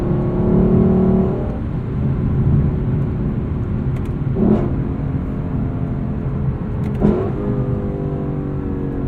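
A 2018 Lexus LC 500 in manual sport mode sends a deep engine rumble through the cabin, climbing in revs, with two sharp shift blips cutting in before the drone settles again.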